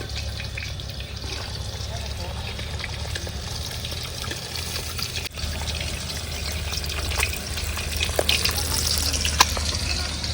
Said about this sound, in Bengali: মাছটা হালকা করে ভেজে নিয়ে একটু মাছটা তুলে নেবো